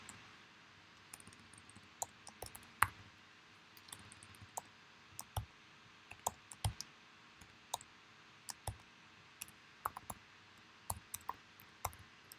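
Sparse, light clicks of a computer keyboard sound at irregular intervals, close and quiet, with brief bursts of several keystrokes and no talking.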